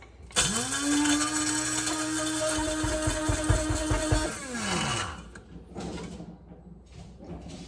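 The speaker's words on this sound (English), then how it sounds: "the only potential problem with the spice grinder is that it won't get it fine enough" An electric spice grinder whirs at a steady pitch for about four seconds as it grinds dried herbs, then winds down and stops, leaving faint rustling, close and loud.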